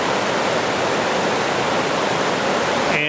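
Laurel Fork rushes through its rocky gorge, a broad, steady roar of whitewater that fills the air continuously and close by, with no voices over it.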